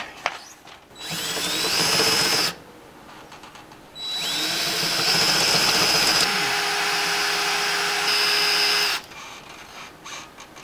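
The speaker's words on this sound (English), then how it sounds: "Stop doing that and just drill." A cordless power drill whirs in three long bursts, its motor pitch rising as it spins up, with short pauses between runs.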